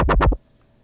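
Tronix dub synth giving an aggressive wobble: two or three loud, gritty, sweeping bass pulses in quick succession that cut off abruptly into quiet.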